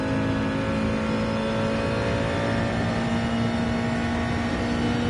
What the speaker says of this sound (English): So here, I'm already quite high in the revs in third.